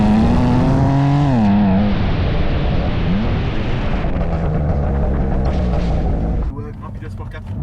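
A BMW M2 Competition rated at 500 hp roars loudly up close, its exhaust note climbing and falling through gear changes, with crackle and pops as the revs drop near the end.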